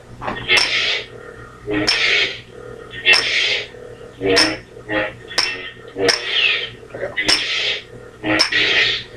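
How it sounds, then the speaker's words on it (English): Replica lightsabers, an Initiate V3 LE and an MR Darth Vader saber, sound a series of metallic clash effects, about eight sharp bursts spaced roughly a second apart, loud and close with no talking. "Now you hear all those clash sounds."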